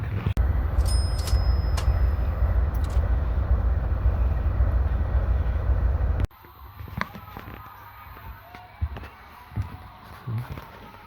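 A passenger train on the Yakutsk to Vladivostok route rumbles along with a loud, steady low roar and clatter inside the carriage for about six seconds, then drops abruptly to a quiet cabin with scattered clicks and knocks.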